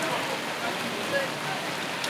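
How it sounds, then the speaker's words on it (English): Rain falls steadily outdoors at a theme park, a soft continuous hiss of drops on surfaces with no distinct breaks, heard alone at a moderate level. "Oh, it's raining."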